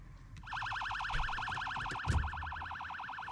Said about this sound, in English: I'm blasting the siren again